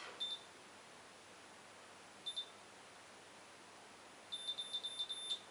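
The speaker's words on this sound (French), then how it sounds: "On entend les bips." An automatic hair curler gives a short beep, another a couple of seconds later, then a quick run of rapid beeps, all against quiet background hiss.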